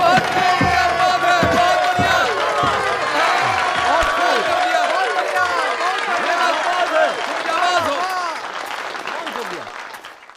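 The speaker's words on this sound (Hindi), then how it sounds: "तालियों से एहतराम करें इस बहादुर का।" An arena crowd applauds and cheers a brave fighter, loud sustained clapping with shouts and excited cries, fading toward the end, with voices rising over it.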